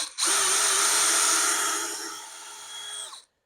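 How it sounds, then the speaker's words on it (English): Power drill boring into the flap of an RC plane, a single high whining burst that starts sharply, holds steady for about three seconds while easing slightly in pitch, then cuts off abruptly. "Slowly get position and drill."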